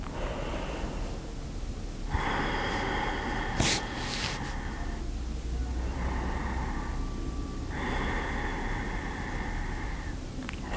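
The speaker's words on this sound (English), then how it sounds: "5 more breaths." Slow deep breaths during a gentle yoga class, long audible inhales and exhales through the nose repeating in a calm rhythm, close and fairly quiet, with no speech.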